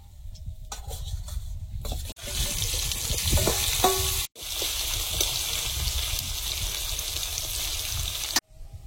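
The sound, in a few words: small fish frying in oil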